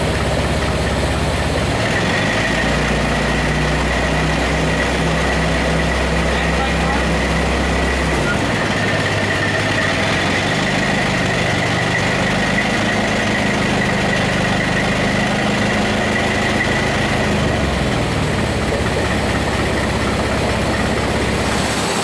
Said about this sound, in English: we'll make sure that that the engine keeps running when that back wheel stops spinning